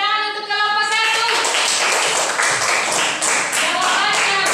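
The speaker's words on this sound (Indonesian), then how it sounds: "Tepuk tangan untuk kelompok 1." A classroom of students clapping in unison for a group, rhythmic rounds of hand claps after a stretch of voices, fairly close and loud in a small indoor room.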